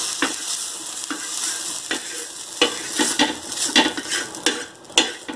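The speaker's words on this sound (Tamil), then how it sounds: "ஃப்ளேம் வந்து சிம்லையே இருக்கட்டும் வெங்காயம் நல்லா பொன்னிறமாக ஆயிடுச்சு எடுத்துடலாம்" Onions fry on an iron dosa tawa on a low flame, a steady soft sizzle broken by repeated sharp scraping stirs of a metal spatula.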